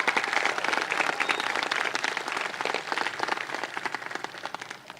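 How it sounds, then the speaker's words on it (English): Sustained applause from a high school graduation audience in a hall, dense clapping that stays full and steady before easing slightly toward the end, with no speech over it. "Let's give her a round of applause for keeping us under control and helping us to succeed past our expectations"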